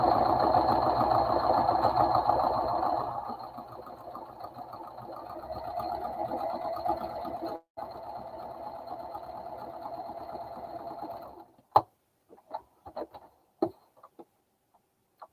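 A sewing machine runs steadily for about eleven seconds, loud and close, stitching fabric pieces together, its motor hum slowing slightly midway, then stops, followed by a few scattered clicks and handling taps.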